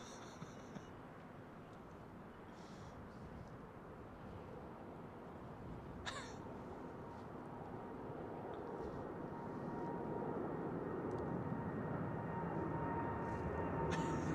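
Boeing 787-8 airliner departing London Heathrow, a faint, distant jet rumble with a thin whine that slowly swells louder toward the end, heard alone.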